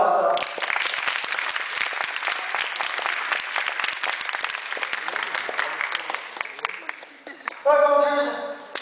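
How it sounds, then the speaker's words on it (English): A school audience applauds in a hall, dense continuous clapping from many hands holding steady for several seconds, with voices speaking near the end as the applause fades. "Let's give another round of applause"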